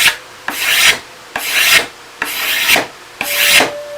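Five rhythmic rasping strokes of a blade scraping across a wooden bow limb, each stroke a bright, harsh scrape with short pauses between, close and loud.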